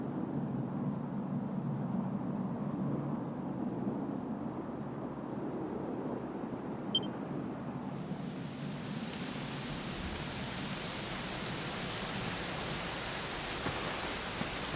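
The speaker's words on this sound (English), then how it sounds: "it was raining like this the last time I ever saw her" Steady rain falls in the Dragon Quest XI game world at the ruins of Dundrasil, a soft even hiss that brightens after about eight seconds into a fuller, wider wash of rainfall without any voices.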